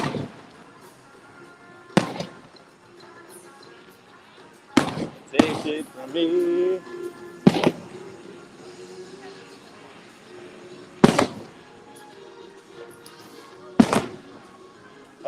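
A Disney fireworks show over Fantasyland, with sharp booms at intervals and a distant rumble and crackle between them, mixed with background music and occasional talking.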